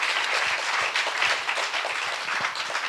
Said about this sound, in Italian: applaudite.